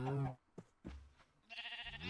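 A Minecraft sheep bleats on a multiplayer server, a short wavering bleat near the end after a voice, with a faint knock between; the whole thing is quiet.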